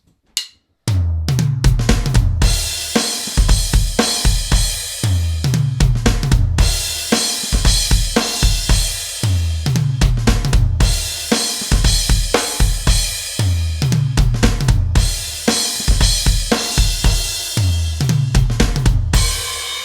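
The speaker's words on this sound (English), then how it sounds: "and then the drums kick in. This is the first fill he plays right at the start." Drum fill from a rock song's intro, played repeatedly on a full kit, loud and close: tom and snare runs crash into cymbals, looping several times over about twenty seconds without talk.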